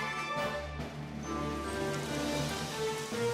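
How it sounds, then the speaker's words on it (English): Rain falls steadily in a video game, a soft even patter of drops layered with light background game tones, continuous and without talk. "Rain?"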